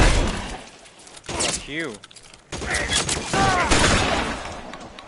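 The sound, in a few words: gunshots in L.A. Noire video game shootout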